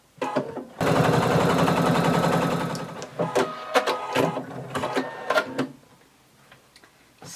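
A sewing machine stitches a little black dress with a half-inch seam, running in one steady mechanical whir for about two seconds, then breaking into short stop-start bursts and clicks.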